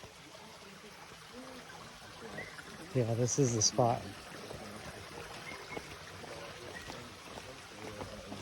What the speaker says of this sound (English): But there's a beautiful creek.